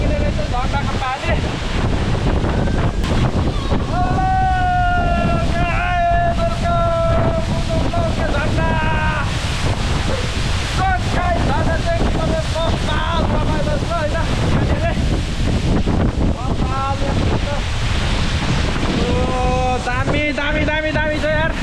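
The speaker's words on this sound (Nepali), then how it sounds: "यहाँ चाहिँ धेरै थाम्न नसकिने रहेछ झर्नाको पानी" Waterfall water crashing and roaring close by in a steady, loud broadband rush, with a voice talking over it and music playing throughout.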